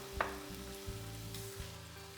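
Onions with a pinch of salt are cooking down in a pan, sizzling steadily and softly, with a few faint stirring scrapes.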